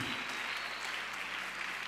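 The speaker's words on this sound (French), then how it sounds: "Applaudis, applaudis, applaudis." A church congregation claps steadily through a French prayer service, a dense, even wash of applause that holds at a constant level throughout without a break.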